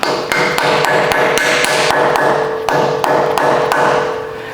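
A dust cap is tapped onto the front wheel hub of a 100 Series Land Cruiser during a brake job, with about a dozen sharp metallic taps in quick, uneven succession, loud and close, with no talking.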